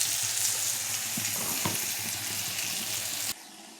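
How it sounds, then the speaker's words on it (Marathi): Masala sautés in hot oil in a pan for stuffed brinjal curry, a steady close sizzle and crackle with occasional stirring scrapes, cutting off abruptly near the end. "छान मसाला परतून द्यायचा आपल्याला."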